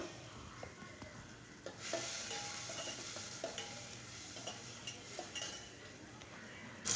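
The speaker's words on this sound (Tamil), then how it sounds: "அரிஞ்சு வச்சுருக்க வெங்காயத்தை சேர்த்துக்கிறேன் வெங்காயம் எண்ணெயில் வதங்கட்டும் நல்லா" Chopped onions sautéing in hot oil give a steady, moderate sizzle that swells after a second or two, punctuated by light clinks of a spoon against the pan.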